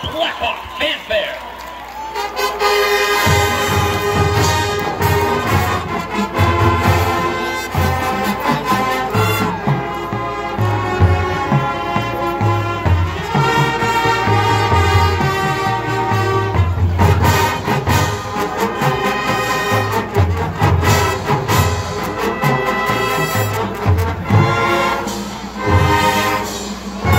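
A marching band blasts a bold brass fanfare with pounding drums, loud and continuous, at a pregame show, a crowd faintly audible beneath.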